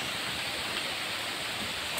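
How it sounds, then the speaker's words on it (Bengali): Heavy rain with gusty storm wind in a village, a dense, even wash of hiss and patter that holds steady throughout at moderate, fairly distant level, with no voices. "বৃষ্টি হচ্ছে, তার মধ্যে ঝোড়ো হাওয়া হচ্ছে"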